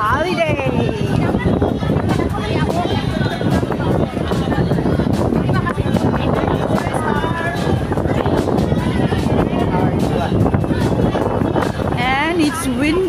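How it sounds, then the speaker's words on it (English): Strong wind buffets the microphone outdoors at Central on a cold Sunday, a loud continuous roar with gusty bursts while people talk over it. "Guys, windy, windy, very windy."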